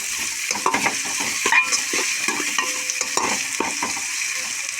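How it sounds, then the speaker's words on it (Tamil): Tomatoes sautéing in a pan, sputtering and sizzling while a utensil scrapes and stirs them in quick irregular strokes, close and fairly loud throughout. "தக்காளி போட்டு நல்லா வதக்கணும்"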